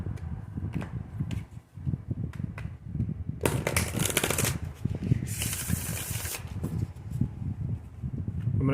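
A deck of oracle cards is shuffled by hand, soft papery riffles and taps followed by two bursts of crisp, rapid card flutter up close.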